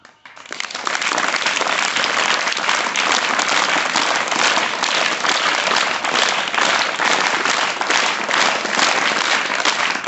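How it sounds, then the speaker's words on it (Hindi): A roomful of people break into continuous, loud applause in welcome at a talk on Indian agriculture, rising quickly and holding evenly for about ten seconds. "तालियों से स्वागत हो।"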